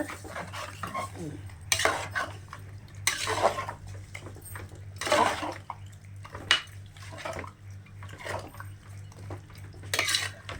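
Steady stirring and scraping of a utensil against a pan over a low frying hum, with occasional louder clanks, as goat intestine gravy is sautéed.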